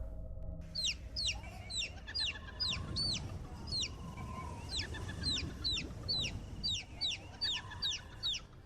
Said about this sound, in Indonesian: Kali ini yang terdengar adalah suara anak ayam diiringi dengan suara cekikikan